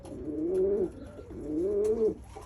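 Pigeons cooing inside a coop, two drawn-out rising and falling coos close by, with faint rustling between them and no talk.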